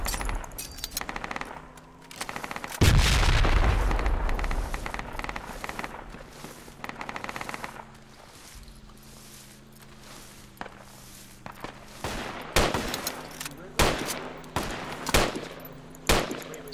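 A frag grenade explodes with a heavy close blast in the tactical shooter Project Reality, followed by scattered gunshot cracks, bursts of fire and footsteps over several seconds, loud and irregular.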